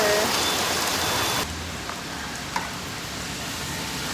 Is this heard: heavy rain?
yes